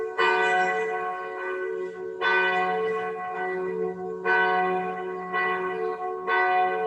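Church bells ring out in repeated strong, sustained peals, each stroke leaving a long resonant hum that overlaps the next, with no talking.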